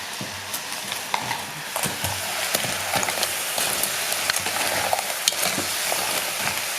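Mud crab with squeezed lemon juice simmers in a hot pan, a loud continuous sizzle with bubbling spatter and occasional clicks of stirring or tossing, close by and without talk.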